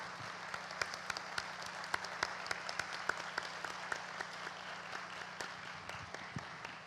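A festival audience at a literary event applauds the organizing team with sustained, steady clapping. Sharp individual claps ring out over a dense, even patter that holds for several seconds.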